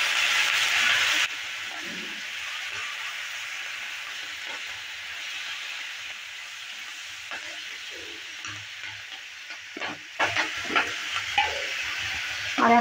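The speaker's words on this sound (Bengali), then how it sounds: "সব কিছু দেওয়ার পর এবার ভালো করে একটু নেড়ে চেড়ে নিচ্ছি" Fried potatoes and onion stalks with spices hiss steadily in a pan, a constant sizzle with faint scraping from stirring and a few louder clatters of the utensil near the end.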